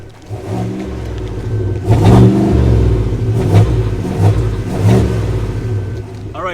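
A 2021 GMC Yukon engine revs while parked, climbing to its stationary rev limit of about 3,000 RPM. It sounds loud and close, with several swelling rev pulses over a steady idle rumble.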